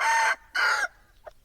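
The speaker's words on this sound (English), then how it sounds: "they're raising fighting chickens, fighting roosters." A fighting rooster crows loudly nearby, a harsh two-part call, followed by a brief softer cluck.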